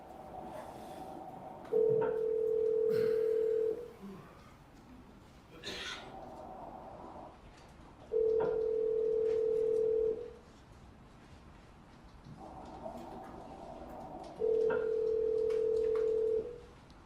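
Three long telephone ring tones sound at an even, repeating interval on a played-back call recording, each lasting about two seconds, with quiet gaps between them and no talk.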